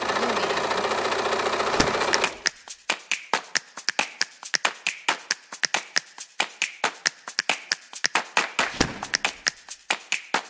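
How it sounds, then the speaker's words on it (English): Sewing machine stitching a fabric farmers market bag, running in a continuous whir before breaking into a rapid, close series of sharp individual stitch clicks as it backtracks a few stitches and resumes sewing. "I'm gonna backtrack just a few stitches and start stitching again"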